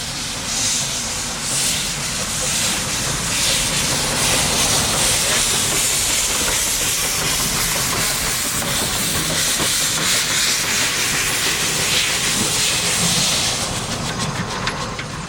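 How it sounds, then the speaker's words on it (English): Steam locomotive on the West Coast Wilderness Railway, a 28-tonne engine, giving a loud, steady, broad hiss of steam with faint rhythmic clatter underneath, continuous and close throughout. "The Black Loco is known locally as Black Beauty."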